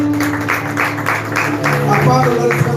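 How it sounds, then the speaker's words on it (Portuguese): Church congregation clapping in rhythm, steady repeated claps beneath a preacher's amplified voice and a sustained musical drone, loud and close throughout. "Aplauda o nome do Senhor Jesus"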